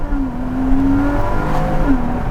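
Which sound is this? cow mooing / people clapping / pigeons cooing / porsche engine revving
porsche engine revving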